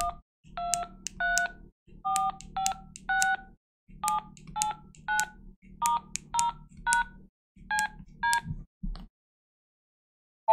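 Keypad buttons on an AllStar Link radio node send a series of short DTMF tone beeps, about a dozen in uneven clusters, each over a low hum, close and clear.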